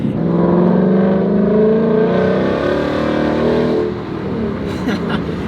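Car accelerating hard on wet pavement with its wheels spinning for lack of traction, a loud, close, steady engine roar that rises and then eases slightly near the end.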